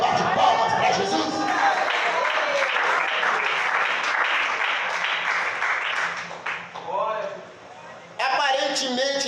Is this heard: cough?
no